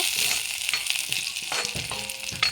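Onion with onion paste and chili sizzling in hot oil with a bay leaf, a steady bright crackle broken by a few utensil scrapes and clinks, close and fairly loud with no talking.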